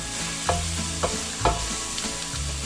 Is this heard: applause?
no